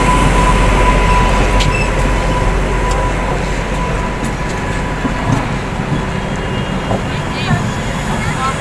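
A Humsafar Express hauled by a WAP-7 electric locomotive rolls loudly into the station, with a steady heavy rumble of wheels and coaches, occasional metallic squeals and clanks, and voices in the background throughout.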